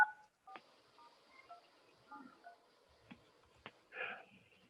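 A quick series of telephone keypad tones, several short beeps in succession, faint and clean with a few soft clicks between them.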